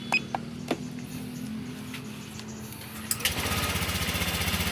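A Honda Vario 150 scooter, just fitted with a replacement throttle position sensor, catches after a quiet stretch of light clicks and settles into a steady, rapidly pulsing idle close by.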